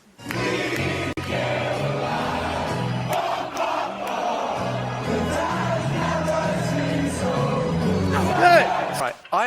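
Large stadium crowd singing together, a loud, dense mass of voices in steady sung phrases that carries on for the whole stretch, with a few sharper shouts rising near the end.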